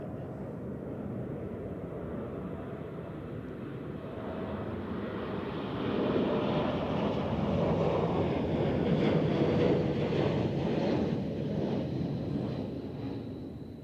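An Air Baltic airliner coming in to land at Zurich Airport on runway 14 in gusty crosswinds, a broad, steady jet roar that swells louder midway and holds before easing slightly, with no voices.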